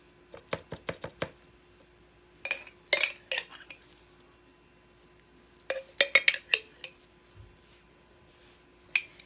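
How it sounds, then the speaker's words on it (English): Metal spoons clink and tap against bowls in quick clusters while Dijon mustard is spooned in, with sharp, close knocks separated by quiet pauses and no talk. "I'm gonna just put a 1 teaspoon of Dijon mustard and 1 teaspoon Dijon mustard here too"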